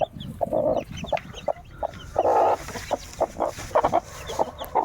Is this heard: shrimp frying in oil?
no